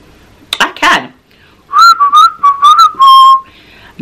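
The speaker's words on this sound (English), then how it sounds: "Can you whistle?" A person whistles a short, wavering tune in several bright, sustained phrases, close and clear, after a brief burst of rustling or breathy noise at the start.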